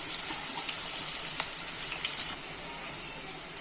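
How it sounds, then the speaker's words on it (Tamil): Onions sizzle in a hot frying pan, a close, crackling hiss with small pops that quiets slightly toward the end. "வெங்காயம் நல்லா வதங்கிட்டு வருது"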